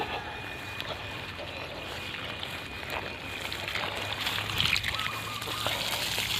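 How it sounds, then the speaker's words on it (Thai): Guava roots are rinsed in water, a continuous close splashing and sloshing with small drips, with a voice heard faintly in the background. "เดี๋ยวจะไปล้างน้ำ"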